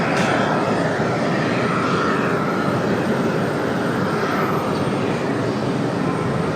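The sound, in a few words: Icelandair flight ICE 821 from Reykjavik jet arriving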